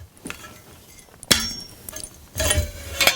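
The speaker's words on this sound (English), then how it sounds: "we're just gonna take the ring and slide it right around like so" A metal ring slid around the legs of a Husky bar-shop swivel stool, giving a sharp metallic clank followed by scraping, clinking contact noises up close.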